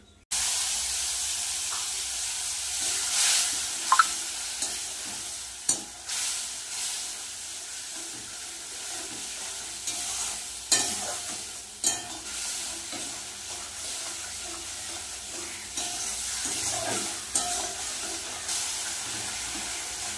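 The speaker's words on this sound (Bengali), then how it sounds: "মশলাটা ভালো করে কষিয়ে নেব।" Ground masala of ginger, cumin, dry chilli, salt and turmeric frying in oil in a pan, a continuous hissing sizzle broken by repeated sharp scrapes and clacks of a spatula, close and loud, with no talking.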